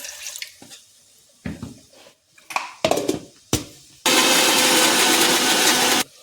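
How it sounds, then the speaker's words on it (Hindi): Kitchen blender grinding cashews with a little water, first in several short pulsed bursts with gaps between, then one loud continuous whirring run of about two seconds before it cuts off. "अब ये काजू पीस लेंगे।"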